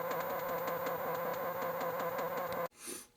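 The player 2 car engine sound from a 1976 Exidy Death Race arcade machine under repair is a steady, electronic buzzing drone with a pulsing rhythm. It plays at moderate level and cuts off abruptly after about two and a half seconds.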